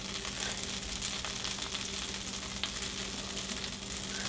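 Onions bubble and sizzle in butter in a skillet, a steady dense crackle of frying that holds evenly throughout with no one talking.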